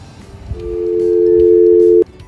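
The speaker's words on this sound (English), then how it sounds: "pick up the phone and listen for a dial tone" A steady payphone dial tone hums from about half a second in, holding level for roughly a second and a half before cutting off abruptly, over low background noise.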